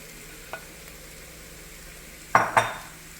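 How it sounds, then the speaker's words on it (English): Sloppy joe ground meat goes back into a skillet under a faint sizzle, with a single tap and then two close, sharp scraping clunks from stirring near the end. "we are going to put the meat back in the skillet."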